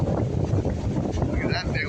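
Strong thunderstorm wind roars steadily through tall swaying trees outdoors, buffeting the microphone with constant low rumble and gusty hiss, while someone talks throughout.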